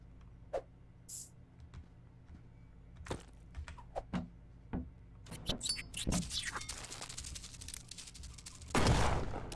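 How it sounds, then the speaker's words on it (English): A shotgun booms in the spider-hunting game Kill It with Fire: scattered sharp, punchy blasts go off one after another, ending in a louder, longer burst near the end, with no voices. "They gave me a shotgun."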